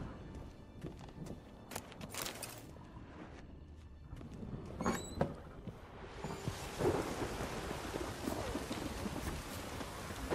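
A thunderstorm with rain in the video game The Witcher 3, rolling thunder cracks and rumbles over a steady rain hiss, with occasional horse hoof clops and no speech.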